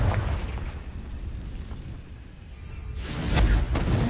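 Confringo fire spell cast in Hogwarts Legacy, a low rumbling boom that swells into a brighter crackling burst near the end, loud and close with no talk over it.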